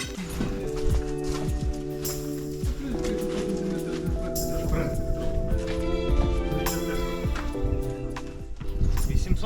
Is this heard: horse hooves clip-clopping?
yes